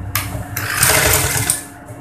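A sewing machine stitches a seam on a pair of ladies' pajama pants, running in close, loud bursts with short pauses between them and no talking.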